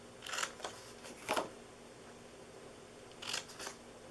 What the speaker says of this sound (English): what we're gonna do now is we're gonna cut off these corners